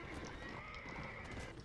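A horse in Red Dead Redemption Undead Nightmare makes faint clip-clopping hooves and neighing amid dense game ambience, a low, muffled presence mixed under the soundtrack.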